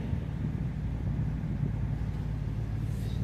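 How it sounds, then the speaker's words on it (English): A Pontiac G6 convertible engine with an exhaust leak, heard as a steady low rumble held close and continuous throughout, with no clear rise of a rev. "But when I rev it up, there's that terrible exhaust leak."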